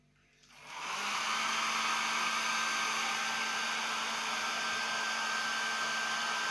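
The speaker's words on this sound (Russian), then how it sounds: "двигаем фен плавно от одной ноги к другой" A hair dryer switches on and ramps up within a second, then blows in a steady, close, even whine with a constant tone, heard alone, as it is moved slowly along clothed legs to warm the trouser legs.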